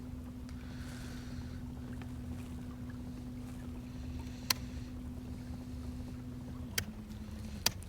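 A motor boat cruises on the Norfolk Broads near Stalham Staithe out of season, its engine a steady low drone throughout with a slight pitch drop near the end and a few sharp knocks over it, with no talking.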